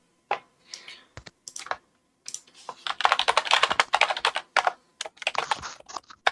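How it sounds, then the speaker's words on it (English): Rapid typing on a computer keyboard, close and clear, with bursts of dense key clicks separated by short pauses, no talk over it. "I didn't notice what typing sounded like."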